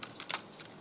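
Typing on a computer keyboard produces three or four crisp, close key clicks in quick succession within under a second, with no talking.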